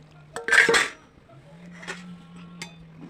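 Fried fish goes into a pot of Assamese curry where tender elephant apple is simmering. A loud metallic clatter of utensil against pot comes first, then a few lighter clinks over a low hum.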